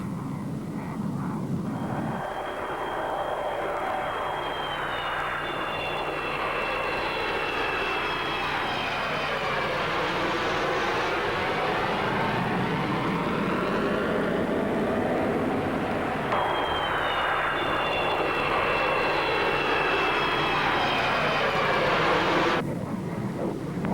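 A General Dynamics F-111 jet flies past with a steady, loud roar, a broad engine rush that swells and shifts pitch as it approaches and recedes, then returns in a second pass, with no talking over it.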